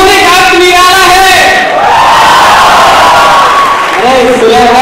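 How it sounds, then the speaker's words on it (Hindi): Audience at an engineer's day celebration claps and cheers loudly and steadily, a dense crowd roar running under a loud held musical tone. "एक बार जोरदार ताली बजाओ"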